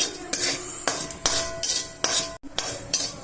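Metal spoon scraping and clinking in a pan as prawn roast with virgin coconut oil, turmeric and salt is stirred, in a run of repeated close strokes with short pauses.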